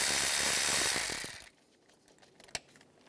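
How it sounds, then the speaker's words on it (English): A hand tool loosening a worm clamp on a coolant hose of a 2008-2016 Chevrolet Cruze: a loud rapid mechanical whir for over a second, then a few quiet scattered clicks and one sharp snap. "We're gonna loosen up this worm clamp here."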